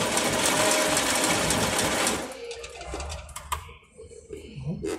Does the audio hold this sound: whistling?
no